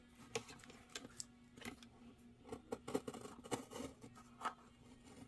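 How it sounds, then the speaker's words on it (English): Scissors snip and trim paper for a paper bag pocket, a quiet run of short, irregular clicks and cuts close by. "Might have to trim it with my scissors."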